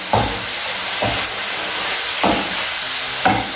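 Beef stew stirred in a pan while cooking, a steady hiss with four separate scraping thumps of the spoon spaced about a second apart, close and moderately loud.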